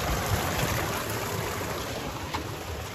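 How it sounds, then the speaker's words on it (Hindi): A mountain stream in Ladakh rushes steadily, a continuous broadband wash of flowing water heard without pause. "पानी का फ्लो देख रहे कहाँ से आता है"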